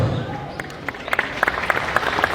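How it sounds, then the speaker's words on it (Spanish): A crowd at a political gathering in Cochabamba's tropics applauds, scattered claps rising and thickening over a steady murmur of voices, moderately loud. "un fuerte aplauso para todos y todos, compañeros"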